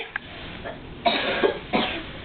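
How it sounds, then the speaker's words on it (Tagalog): Several short coughs from one person, close by, spaced irregularly with quiet gaps between them. "Ay, ubo-ubo ka naman."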